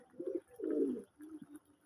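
Pigeons bred for colour markings coo close by, three soft throaty calls in a row with brief pauses between them, the middle call the longest and loudest.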